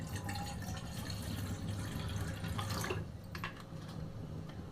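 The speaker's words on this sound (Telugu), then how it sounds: "ఒక గిన్నె తీసుకున్నాం. దాంట్లోకి కొంచెం అంత వాటర్ వేసుకోవాలి." Water is poured into a bowl while a mango sago dessert is being made: a faint, steady trickle for about three seconds, then a few soft drips in a quiet room.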